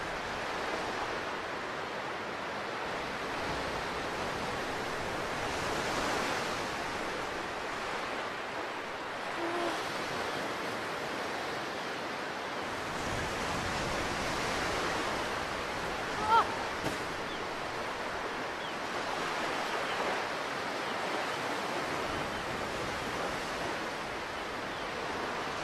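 Waves wash onto a shore in the video game Ico, a steady, distant surf with slow swells rising and falling and no talking.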